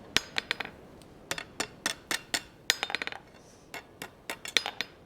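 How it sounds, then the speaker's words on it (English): A hammer strikes hot steel over an anvil horn, bending a fishtail scroll for an ornate forged bracket: about twenty sharp, ringing metallic blows come in quick irregular bursts, close and loud, with no talking. "we're going to go ahead and start bending around the horn of the anvil"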